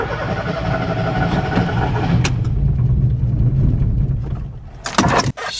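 A VW Gol engine cranks and catches, running roughly and loudly for several seconds on a half tank of gas before cutting out abruptly with a final clatter.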